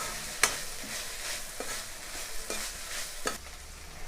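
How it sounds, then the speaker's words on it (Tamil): Chopped vegetables are stir-fried for egg fried rice in a pan, a soft steady sizzle broken by several sharp scraping strokes of a spatula at irregular intervals, close and fairly quiet, with no talking. "இப்போது நம்ம கட் பண்ணி வச்சுருந்த காயெல்லாம் சேர்த்துடலாம்."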